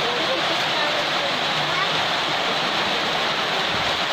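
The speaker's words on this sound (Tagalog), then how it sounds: "bumuhos bigla yung ulan" Heavy rain suddenly pours down on a corn farm, a loud, continuous broadband roar of water with no breaks, close and enveloping throughout.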